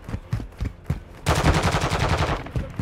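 Rapid automatic gunfire erupts in a dense, loud burst during a Call of Duty: Modern Warfare II multiplayer match, following a few separate shots, with no talk over it.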